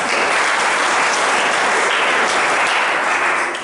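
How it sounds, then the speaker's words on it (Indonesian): A church Christmas sermon audience breaks into sustained, dense applause, a steady wash of many hands clapping at full volume throughout before easing slightly at the end. "Tepuk tangan bagi dia."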